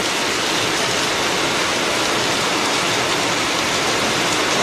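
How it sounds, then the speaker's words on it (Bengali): Heavy rain hisses down in a dense, unbroken wash of noise, loud and constant throughout. "হঠাৎ করে জোরে বৃষ্টিটা নামলো"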